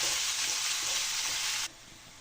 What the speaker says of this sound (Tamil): உள்ளி ஒரு முக்கால் பாகம் வதங்கியாச்சு லைட்டாக கோல்டன் கலரில் வர தொடங்கி இருக்குது